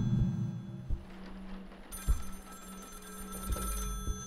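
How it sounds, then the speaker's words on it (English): In a horror game set in a restaurant on night shift, a telephone rings in bright repeated trills over dull thuds and low ambient hum, fairly quiet and with no talking. "I hear a phone."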